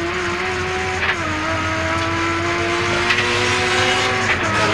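Touring race cars from the Australian Touring Car Championship at Mallala circuit roar past in 1989, engines loud and steady with a gear change dropping the pitch, a continuous, close racing drone.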